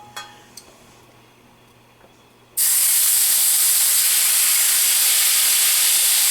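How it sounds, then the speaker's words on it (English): Streak o' lean pork drops into a hot pan on a turned-down burner, and after a quiet stretch with a few small clicks, a loud, steady frying hiss and splatter bursts up and holds. "It's still a pretty hot pan, and this is going to splatter."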